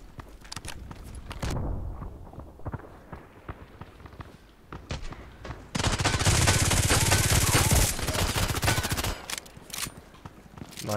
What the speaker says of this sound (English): An automated gun.